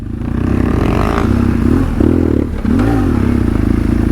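A BMW 1200 GS Adventure motorcycle crosses logs off-road, its loud engine droning steadily and rising in brief revs, with a short dip in the middle where the wheels clear the obstacle.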